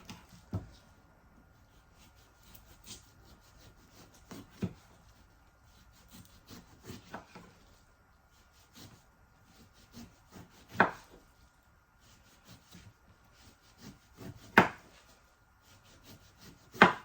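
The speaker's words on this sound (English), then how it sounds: "we're going to peel this eggplant" An eggplant being peeled by hand: irregular scraping and rasping strokes, close and fairly quiet over near silence, with a few sharper clicks spread across the stretch.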